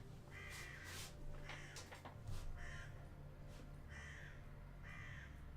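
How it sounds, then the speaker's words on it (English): Crows caw outside in a repeated series of harsh calls, faint and distant over steady background noise, with no voices present. "I kind of find the crows a little bit annoying because they're so loud."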